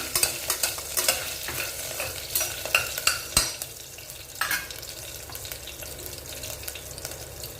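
Crushed ginger fries in a pan with a continuous crackling sizzle, broken by sharp spatula scrapes and taps that stand out loud and close before the frying fades to an even hiss.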